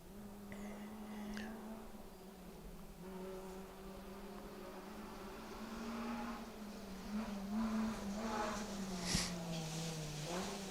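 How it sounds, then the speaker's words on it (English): A Nissan Micra rally car on a forest stage of the Woodpecker Stages Rally, its engine a faint, distant drone rising and falling as it works through the trees, with low murmuring nearby. "It's not the Peugeot, it's the Nissan Micra. Being driven just as hard."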